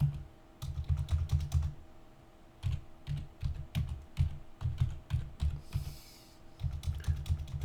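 Typing on a computer keyboard running Windows 11, with close, rapid clusters of key clicks in short bursts separated by brief pauses, and no one speaking.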